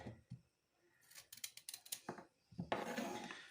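A kitchen knife slices through a quarter head of cabbage, giving a few crisp soft cuts with pauses, then a denser run of crunchy chopping near the end, fairly close and quiet.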